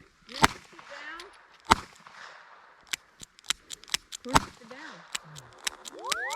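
Two Desert Eagle pistols fired together, dual-wielded, a rapid uneven volley of sharp cracking shots, some close and loud, others quicker and lighter, with voices talking between the bursts.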